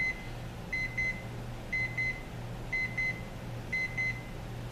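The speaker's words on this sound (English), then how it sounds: "Here comes the alarm." A Timelink 88036 color-changing LCD alarm clock sounds its alarm: paired electronic beeps repeating about once per second, close and fairly quiet over a low steady hum, with no talk.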